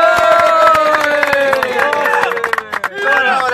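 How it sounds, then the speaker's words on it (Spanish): A crowd greets arriving performers at a tour concert in Salta and Jujuy with loud cheering and shouting voices over scattered clapping, the excited hubbub close and dipping briefly before surging again. "Un aplauso. Ahí llegaron."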